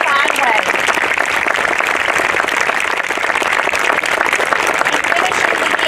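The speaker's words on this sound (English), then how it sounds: "Can we all please give them a well-deserved round of applause for leading our middle school in a fine way" A large audience at a middle school step-up and honors ceremony breaks into loud, steady, continuous applause for graduating eighth graders, dense clapping filling the room throughout.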